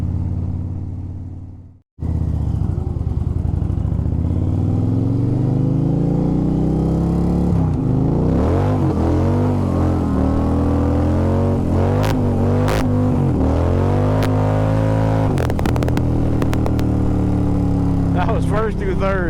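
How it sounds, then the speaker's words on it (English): A car doing rolling burnouts on a wet road, its engine revving up hard through first to third gear with rising and falling pitch sweeps and tyre noise, loud and close after a brief silent start, with talk over it. "First through third, lighting the tire up at like probably way too fast."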